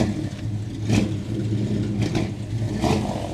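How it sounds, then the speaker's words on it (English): A gasser hot rod's car engine idles roughly, then revs in three short bursts a second or so apart, loud and close. "can you rev the engine, Larry?"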